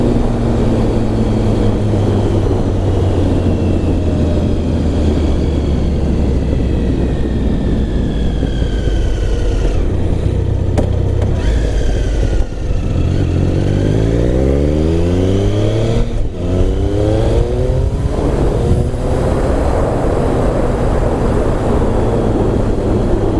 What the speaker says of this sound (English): Got a bit of a burble and a backfire.